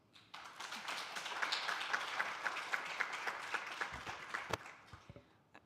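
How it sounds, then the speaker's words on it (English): Sustained audience applause greets a speaker at the EuroDIG 2022 conference, a dense, steady crowd of clapping hands that swells quickly and holds for several seconds before thinning out, with no talking. "Please, I would like to introduce Katarina with a round of applause."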